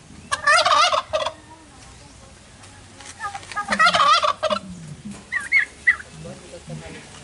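Several turkeys gobble in a yard where chickens are kept, in loud rattling bursts near the start and middle, followed by shorter, softer calls. Low background noise runs underneath throughout.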